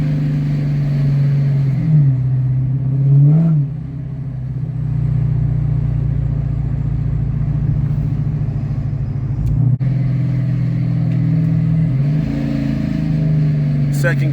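Dodge Charger R/T fitted with a Mishimoto oil cooler, its engine droning steadily with rising and falling pitch as it accelerates and shifts through the gears, close and loud for the whole stretch.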